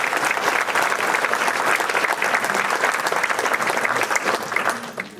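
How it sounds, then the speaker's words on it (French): Loud, sustained applause from an audience at a Sainte Cécile music celebration for a wind band, thick and steady hand clapping that thins and fades slightly at the very end. "On peut encore l'applaudir, oui"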